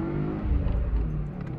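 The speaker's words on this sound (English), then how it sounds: "Oh, that was such a good crackle pop." Car engine revving under acceleration, a steady low exhaust drone with a few faint pops and crackles near the end, close and fairly loud.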